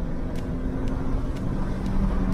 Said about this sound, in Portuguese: Aí você pega, acelera de novo, ó.